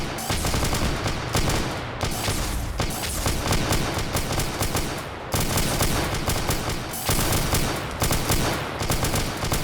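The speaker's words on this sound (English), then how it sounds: "So you hear that bullet, that gunfire, that's the AI actually firing back" Sustained, dense automatic gunfire from AI soldiers in a sci-fi strategy battle, loud and continuous, with brief pauses between long bursts.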